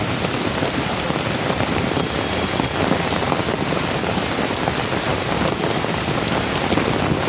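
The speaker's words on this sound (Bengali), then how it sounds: "বন্ধুরা প্রচণ্ড বৃষ্টি নেমেছে দেখতে পাচ্ছেন" Heavy rain pours steadily in a park in Mumbai, a dense, continuous hiss of drops on the ground at a constant level with no gaps, and no voices.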